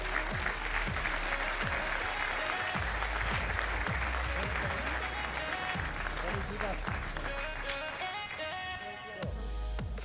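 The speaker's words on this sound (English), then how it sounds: "Let's give him a round of applause." Loud sustained audience applause greets an award presentation on stage at a MotoGP-related televised show, with music running underneath for about ten seconds.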